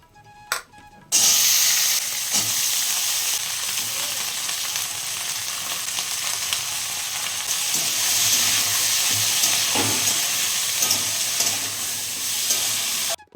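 Yardlong beans fry in a pan on a gas stove with a loud, steady hiss and sizzle that runs almost the whole length, swelling slightly at times. A few soft knocks from stirring rise above the sizzle.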